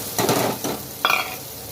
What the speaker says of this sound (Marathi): आता याच्यामध्ये मी शिमला मिरची घालून घेते. ती सुद्धा हलकी अशी फ्राय करून घ्यायची आहे आपल्याला.